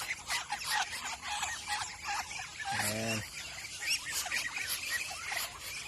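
Young hens clucking outdoors in a busy chorus of poultry sounds, with one loud, drawn-out call standing out midway and a brief spoken word.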